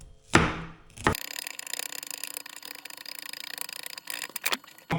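A knife chops leek finely on a board, a quick, steady run of close, dry taps that carries on with no talking over it.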